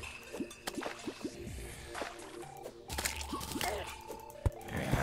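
Splashing water and small drips and plops from a waterfall with jellyfish swimming up it in Terraria, sounding as a steady run of light wet blips with a denser burst of splashing midway.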